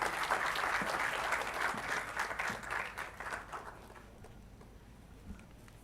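Applause from a large audience at a university convocation ceremony fills the hall, a dense wash of clapping that holds steady and then gradually thins and fades toward quiet.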